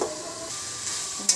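Spices sizzle and fry in a pan while being stirred, a steady bright hiss with a few soft scrapes, close and alone, ending in a short sharp burst.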